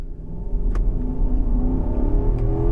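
An SUV engine revs while stationary, held near 2,000 RPM, producing a loud, close, steady mid-pitched drone with a low rumble throughout.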